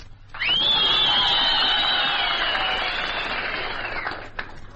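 Servicemen in a wartime radio audience break into sustained loud applause with whistles and cheering, a broad roar of clapping, shrill whistles and stamping feet that holds steady for about four seconds before dropping away.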